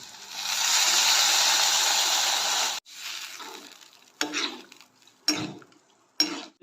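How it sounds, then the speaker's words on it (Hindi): Water pours into a pan of roasted masala for kadai paneer, a steady loud hiss and sizzle for a few seconds, then quieter bubbling with sharp clinks of a spoon stirring against the pan. "तो चलो अब डालते हैं मस्त पानी ला।"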